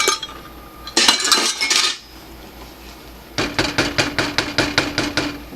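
Shredded cheddar cheese stirred into potato soup in a pot, a spoon scraping and knocking against the metal in a quick burst, then a steady run of about a dozen rhythmic clinks, close and loud.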